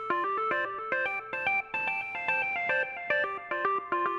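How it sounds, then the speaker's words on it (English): A bright, tonal melodic pattern in Ableton repeats in short phrases, each note trailing into raw echo-effect repeats, with brief gaps between bursts; no speech. "In this case, the echo will sound like this."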